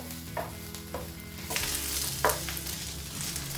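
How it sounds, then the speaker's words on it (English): Sliced onions fry in oil and a knob of butter in a pan over medium-high heat, a loud continuous sizzle broken by several scraping stirs and clatters, with no voices. "Now get a pan on a medium to high heat, add some oil, a knob of butter and your sliced onions"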